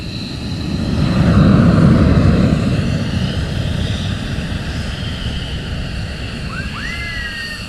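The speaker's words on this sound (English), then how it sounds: "It certainly is pretty cool to watch them departures, Steve." Military jets depart RAF Lakenheath during a morning surge launch, a loud roaring engine rumble that swells to a peak and then holds as a broad steady roar.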